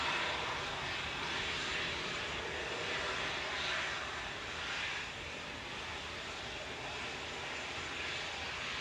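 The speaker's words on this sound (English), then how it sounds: "Bucket reverses on this little private jet." A small Cessna Citation private jet operated by VistaJet lands at Manchester Airport, its bucket thrust reversers giving a steady, distant broadband roar that holds level for several seconds, then eases slightly.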